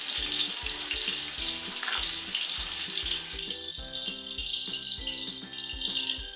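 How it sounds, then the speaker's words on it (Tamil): Three large onions sizzle steadily as they fry toward golden brown for a beef biryani, the crackling fry constant and close beneath rhythmic background music. "நல்லா பொன்னிறமாக வதக்கலாங்க"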